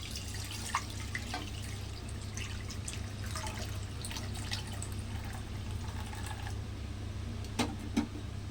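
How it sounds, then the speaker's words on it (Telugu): One litre of milk is poured into a kadai for bread halwa, a quiet liquid trickle with a few small splashes and drips, nearby and alone. "ఈ పాలని ఇందులో వేసేసుకుందాం"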